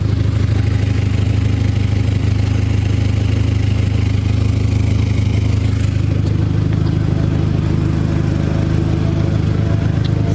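Idling Dodge SRT4 with an exhaust leak under the middle of the car: a steady, loud low engine rumble with a raspy puffing texture, continuous throughout, shifting slightly in tone partway.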